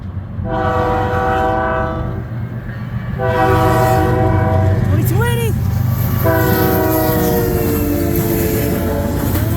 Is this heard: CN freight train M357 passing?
yes